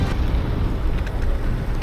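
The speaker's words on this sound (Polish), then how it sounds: "jest chłodno, wiatr wieje" Wind blowing hard against the microphone, a continuous low rumbling buffet with no voices.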